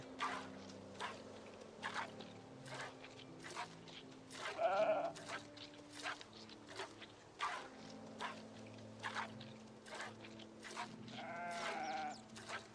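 Sheep bleating in the video game Project Zomboid, several short bleats scattered over a quiet farm ambience with soft steps and a low hum, no speech.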